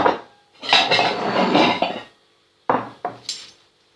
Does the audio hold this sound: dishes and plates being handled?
yes